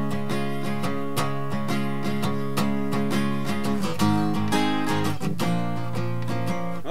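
Steady strummed acoustic guitar chords in a repeating rhythmic pattern, full and close, with chord changes every few beats and no voices.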